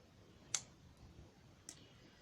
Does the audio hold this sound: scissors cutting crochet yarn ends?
yes